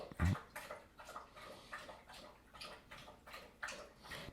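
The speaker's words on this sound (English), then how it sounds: "Doberman is still drinking water." A Doberman laps up water, making faint, repeated wet slurps in a steady rhythm against a quiet background.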